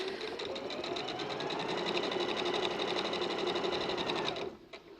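A sewing machine stitches short fabric edges along their length, running as a fast, steady, even whir close by that cuts off abruptly near the end.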